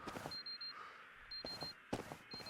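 Short high-pitched countdown timer beeps from the Serum survival horror game repeat in a steady pattern, clear and electronic against quiet game ambience, with brief clicks between them.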